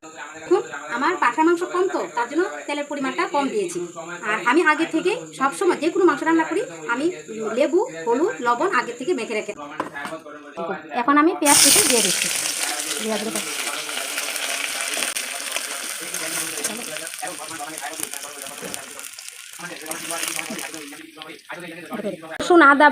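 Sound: meat frying in oil in a pan

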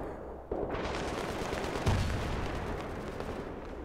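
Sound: sniper rifle gunfire in the video game Battlefield 3

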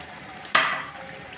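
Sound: boiled mutton cooking in a kadai

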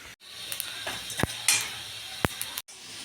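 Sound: dry roasting whole spices in a pan

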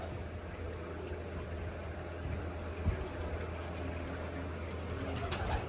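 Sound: pigeons

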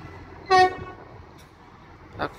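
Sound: train horn

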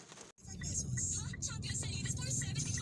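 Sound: road traffic on a flooded street in Taguig City during a typhoon

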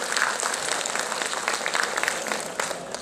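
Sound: applause welcoming the MP

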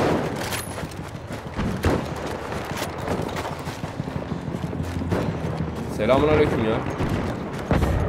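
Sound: artillery bombardment and gunfire in Battlefield 1 video game

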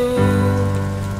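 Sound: rain falling on a surface

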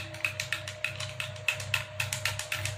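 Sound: stirring instant coffee in a cup

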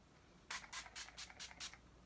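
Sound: spraying Avon Set and Prep Spray on face

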